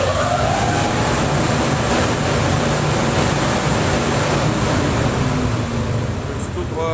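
A ventilation system in repair and adjustment runs loudly, giving a steady broadband roar with a low hum that continues without a break from start to finish.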